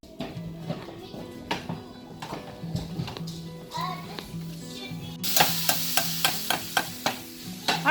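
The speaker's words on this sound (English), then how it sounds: "we are going to crumble up and brown up our sausage" Crumbled sausage browns in a hot pan over medium-high heat, with a steady sizzle, repeated scraping and stirring taps from a utensil, and a voice talking faintly in the background.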